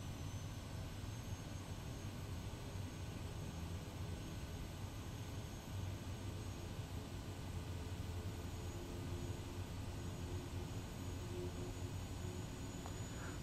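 In Microsoft Flight Simulator, the Quest Kodiak 100's single turboprop engine drones steadily as it is throttled up for a run-up, a constant loud engine roar with no talking.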